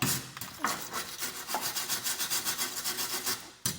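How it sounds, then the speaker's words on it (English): Rapid, rhythmic rasping scrubs of a drill-driven wire brush against a flaky, rusty Vauxhall Corsa subframe, close and steady, about a dozen strokes in quick succession. "I got under there with the wire brush, drill, give it a good old blast out."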